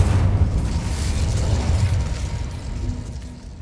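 The Incendio fire spell cast in Hogwarts Legacy, a loud roaring burst of flame that swells and then fades away over a few seconds, with no voices present.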